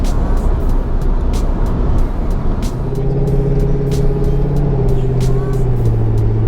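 A Corvette C6 ZR1 engine rising in pitch as it accelerates in a road race against a C7 Z06, loud and droning over road noise with brief clicks.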